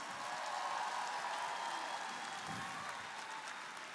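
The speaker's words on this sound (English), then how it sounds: "Let's give all these amazing students a great big round of applause." An awards ceremony audience at a robotics world championship in Houston claps for students, giving sustained applause that sounds distant and faint over a hall hiss.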